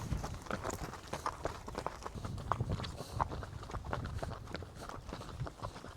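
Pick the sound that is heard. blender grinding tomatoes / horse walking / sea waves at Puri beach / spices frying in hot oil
horse walking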